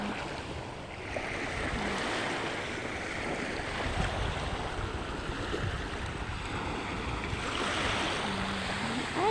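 Sea waves wash steadily onto a beach with very clear water, a continuous broad surf roar with soft swells and gusts of wind across the microphone, no voices.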